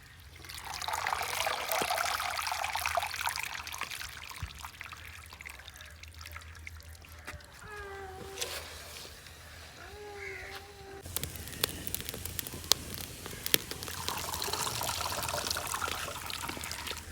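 Fresh village saag greens going into a pot of hot water give a run of trickling and pouring water sounds. Crows caw a few times in the background midway, and the splashing of liquid comes back near the end.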